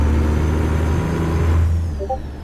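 Loud, close idle rumble of a truck's Detroit Diesel DD60 engine with a deep steady drone that eases off near the end, leaving a faint hiss and a couple of short tones.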